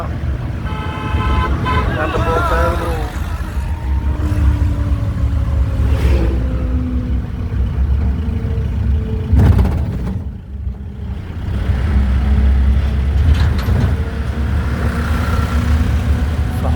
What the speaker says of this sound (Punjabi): ਆ ਗੱਡੀਆਂ ਕਾਰਾਂ ਟਰੈਕਟਰਾਂ ਦੇਖ ਲੋ ਆ ਜਾਂਦੀ ਆ ਟਰਾਲੀ ਜਾਂਦੀਆਂ ਸੰਗਤਾਂ